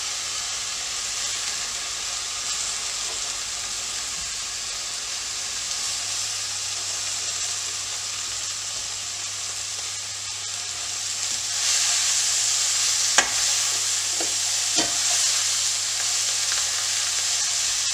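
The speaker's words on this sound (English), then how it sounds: "Roast that a little bit, and then add the spinach, Vallarai or brahmi leaves." Indian pennywort (vallarai) leaves and spinach roasting in a pan, giving a continuous hissing sizzle that grows slightly louder partway through, with a few brief stirring knocks late on.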